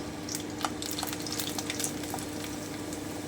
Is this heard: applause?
no